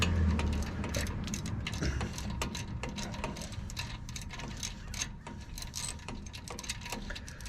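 Ratcheting and clicking from a wrench working a 13 millimeter bolt on a Nissan Titan rear axle, a steady close mechanical rattle with rapid ticks throughout, no talking.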